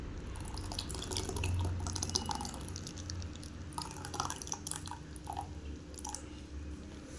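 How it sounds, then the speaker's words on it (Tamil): Half a litre of curd pours into ragi porridge (kali koozh), giving a continuous wet dripping and squishing sound that stays fairly steady throughout, with no talking. "தயிர் வந்து ஒரு 1/2 லிட்டர் ஊற்றிடலாம்."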